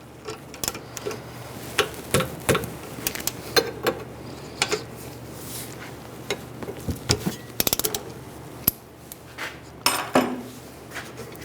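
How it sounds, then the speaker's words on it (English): Metallic clicks and clanks of a 17mm wrench working the rear brake caliper bolts on a 2008-2017 Buick Enclave, a string of sharp close ratcheting ticks and taps with short pauses, no talking. "then you can use a 17mm wrench. Hold it from spinning."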